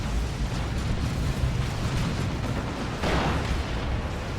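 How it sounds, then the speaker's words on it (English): Basic missile explosions from the Dawn of War 2 video game, a match of Chaos Space Marines against Imperial Guard: a steady, dense rumble of blasts and booms that runs the whole time, with a brighter burst partway through. "That's just the basic missiles."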